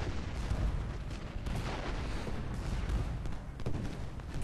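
Cannons boom in the Ultimate General: Gettysburg battle game, a continuous rumbling barrage of artillery fire with overlapping blasts and no talk.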